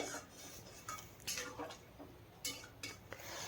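A vegetable curry with drumsticks and water being stirred in a pot, with a spoon scraping and clinking against the metal in irregular strokes, near and fairly quiet, with no talking.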